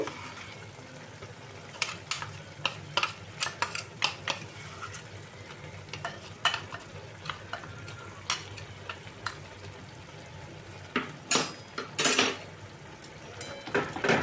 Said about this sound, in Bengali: আর এর মধ্যে খুন্তি দিয়ে এইভাবে আমি ভালো করে মিশিয়ে দেব